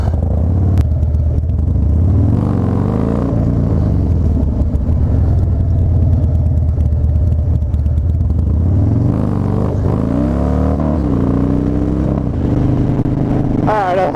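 A motorcycle engine revs hard and rumbles nearby through a wheelie attempt, pitch rising and falling, with a rider's voice talking over it.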